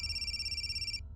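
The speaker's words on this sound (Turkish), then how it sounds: "Telefon evet. Çalıyor." A telephone rings with a bright, steady electronic trill for about a second, then stops, over a faint low background hum.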